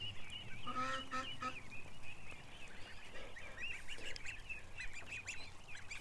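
A flock of geese honks nearby, overlapping nasal calls and cackles rising and falling continuously over a low background rumble.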